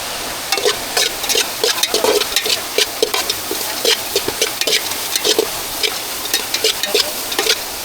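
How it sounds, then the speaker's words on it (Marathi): Onions dry-roasting without oil in a pot over an outdoor jungle fire, with crackling sizzle and frequent stirring scrapes in an irregular rhythm, close and fairly loud. "बघा कांदे फ्राय करायला घेतले."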